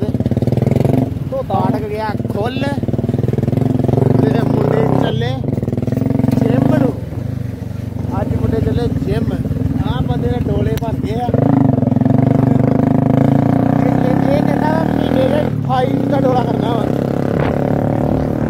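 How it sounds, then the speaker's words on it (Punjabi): A motorcycle that is hard to start, its engine running rough and loud nearby with sputters and repeated revs, while several people talk over it throughout. "ਹੁਣ ਸਾਡਾ ਮੋਟਰਸਾਈਕਲ ਸਟਾਰਟ ਹੀ ਬੜੀ ਮੁਸ਼ਕਲ ਹੁੰਦਾ"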